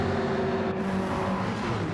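Race cars in a racing game, with a Mustang and a Sylvia among the field, a steady close engine whine droning without a break for the whole moment.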